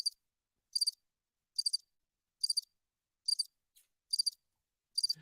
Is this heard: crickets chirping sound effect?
yes